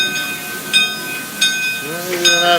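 Buckley Railroad 0-4-0T steam tank locomotive number 7 hisses and chuffs close by, with sharp bursts of escaping steam at intervals over a steady tonal hum, and a voice speaking briefly near the end.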